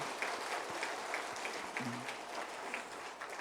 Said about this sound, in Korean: 우리 강사님께 감사의 박수 한번 올려드리겠습니다.